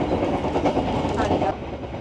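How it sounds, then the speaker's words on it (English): A train travelling across Java toward Bali rumbles and rocks steadily along the rails with a rhythmic clatter and a dense low roar, loud and close, heard from inside a carriage. "this train is quite rocky. Very rocky."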